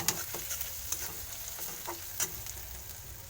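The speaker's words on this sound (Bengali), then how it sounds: "কিছুটা গুঁড়ো জিরে দিয়ে দেবো, এটা ভালো করে নাড়বো।" Ground chilli and cumin being stirred into a pan of frying spices, a steady soft sizzle broken by a few light scraping clicks of the spoon, close and alone.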